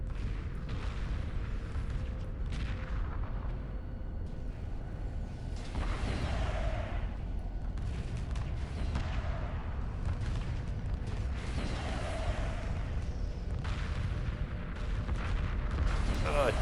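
Missiles launching and bursting in the space strategy game Homeworld Remastered, a steady rumble of booming blasts and sharp pops layered over a continuous battle drone.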